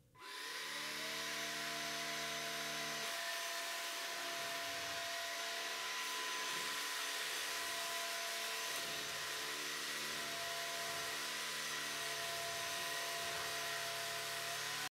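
A Levoit LVAC-300 cordless vacuum cleaner whines up and runs steadily while sucking up large leaves, a loud, sustained motor drone with faint rustling and crackling beneath it.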